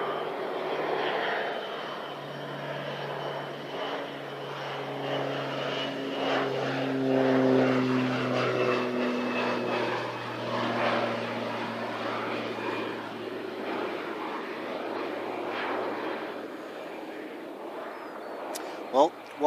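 An Airways aircraft with its wheels down comes in to land at Christchurch Airport, a moderate engine drone with propeller-like tonal hums rising and falling, while a person talks over it.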